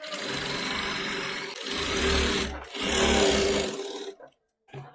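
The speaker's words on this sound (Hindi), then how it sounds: "तो दोस्तों मैं गले पे सिलाई लगा रही हूँ।" A sewing machine runs in three sustained, loud bursts as it stitches the neckline of a shawl collar, with a whirring motor hum, then stops with a few brief clicks.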